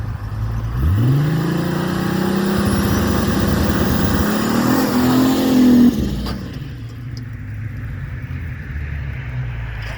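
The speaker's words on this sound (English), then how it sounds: "maybe it was time to do a little burnout" An 800-horsepower turbocharged Chevrolet Trailblazer sleeper build revs hard during a burnout attempt, its engine rising in pitch and holding a loud, strained roar for several seconds before dropping back to a rough idle.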